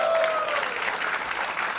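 Live comedy show audience in Cologne applauding steadily, a dense, loud wash of clapping throughout with a faint tonal whistle at the start.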